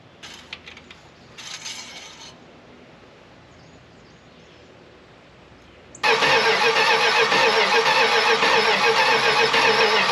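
After a few faint clunks and a quiet pause, an abandoned Jaguar MK10 fitted with a 440 Mopar V8 fires up after more than 35 years. It runs loudly and steadily, a close, rough, roaring engine note with no talk.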